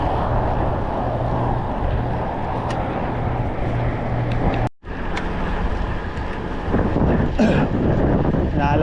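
A strong headwind buffets the microphone of a cyclist riding on a cycling track, a loud continuous low roar that stays steady, cuts out for an instant and then returns with harsher gusts.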